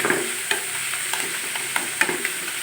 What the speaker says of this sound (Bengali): শাকটাকে ভালো করে ভাজা ভাজা করে সার্ভ করে নেব